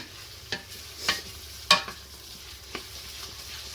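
Garlic fried and stirred in a pan: a soft background sizzle broken by several sharp scraping strokes of a utensil, close and fairly quiet, with no talking.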